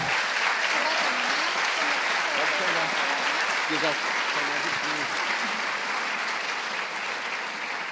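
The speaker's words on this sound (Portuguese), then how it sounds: "Você pode aplaudir o Senhor por isso?" A church congregation applauding during a family conference service, a continuous dense wash of many hands clapping at even loudness, with a voice speaking over it partway through.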